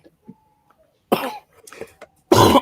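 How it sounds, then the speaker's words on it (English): A couple of sharp, close coughs ring out after a brief quiet moment, the last one loud and harsh. "That was a cough."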